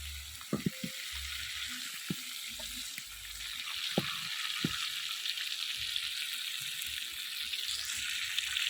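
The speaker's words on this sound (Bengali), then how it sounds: "আমি এইভাবে কিছুক্ষণ রেখে তারপর ভালো করে ভুনে নিই" Aair fish fries in a pan as its liquid cooks off, a soft steady sizzle with scattered spatula clinks and taps, fairly quiet and without speech.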